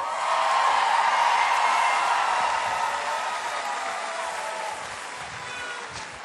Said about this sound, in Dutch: En dan zien we nog een applaus voor Danny de Munn